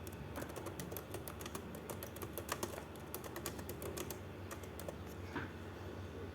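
Typing on a computer keyboard while filling in a ferry ticket booking form: rapid, close, irregular key clicks run steadily throughout with no voice.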